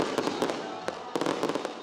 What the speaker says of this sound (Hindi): आतिशबाजी का मुजाहरा किया गया।